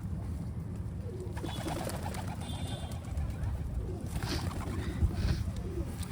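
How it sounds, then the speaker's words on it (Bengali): Racer pigeons coo and call steadily through a constant low rumble of background noise, with soft repeated coos and a few brighter calls rising near the middle and end. "রেসার কবুতর কত ডাকাডাকি করে ডিম দেওয়ার জন্য মা দিকে তেড়ে নিয়ে বেড়াচ্ছে"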